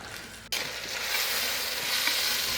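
Vegetables including tomato and cauliflower sizzle loudly in a pan for veg biryani, a sudden burst of frying hiss that continues steadily and close, with faint stirring scrapes underneath.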